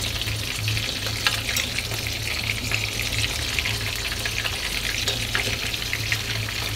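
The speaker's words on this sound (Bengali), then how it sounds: "তো এইভাবে আপনারা মাছগুলোকে ভেজে দিবেন।" Prawns fry in oil in a frying pan, giving a continuous, close sizzle with small crackles over a low steady hum, with no one talking.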